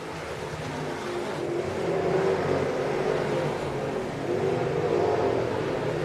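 Late model race cars on a short track during a hot lap session, a continuous moderately loud engine roar that swells and recedes as the field circles, with no voices.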